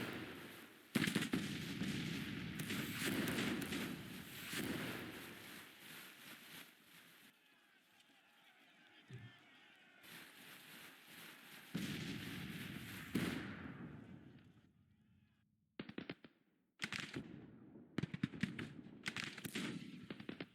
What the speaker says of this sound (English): A lot of skirmishers do some shooting for a little while.